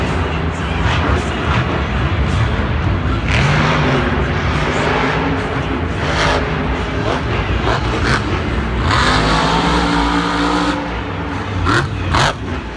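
Son of a Digger monster truck at a Monster Jam stadium show: a loud engine roaring and revving in repeated surges, with crowd noise and short impacts mixed in.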